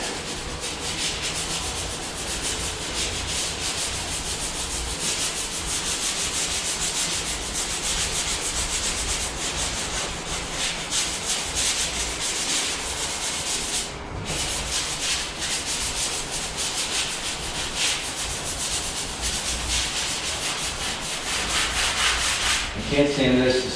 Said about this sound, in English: I'm just gonna lightly sand